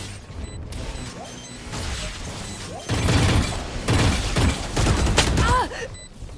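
Swarm grenade explosions in a Valorant match: a dense stretch of crackling bursts and impacts rising in the middle, mixed with game noise and ambient clutter, with a brief voice near the start.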